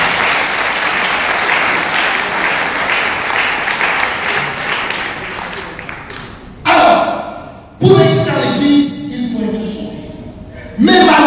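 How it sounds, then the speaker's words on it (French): A church congregation claps and cheers in a dense, sustained burst for several seconds before it thins out, giving way to a few thumps and a speaking voice. "est-ce qu'on peut acclamer nous aussi?"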